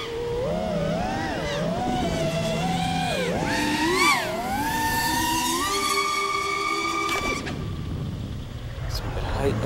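The electric motor of an RC aircraft fitted with DAL Cyclone T5050C propellers whines as it pulls out of a dive, its pitch rising and falling in sweeps before climbing and then fading, heard at moderate distance over wind noise.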